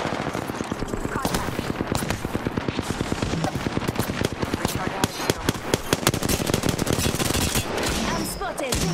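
Rapid automatic gunfire in the Apex Legends battle royale shooter, dense loud bursts of shots rattling almost continuously with brief gaps, with voices talking over the fighting.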